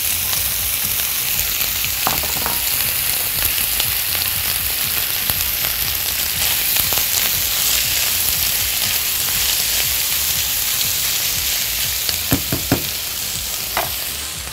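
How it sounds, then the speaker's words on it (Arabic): Beef bacon fries in a spoonful of olive oil in a pan, giving a continuous dense sizzle with occasional crackles and a few stirring clicks near the end, close and steady. "دلوقتي انا حطيت معلقه زيت زيتون وهنزل على طول فيها البيف بيكن"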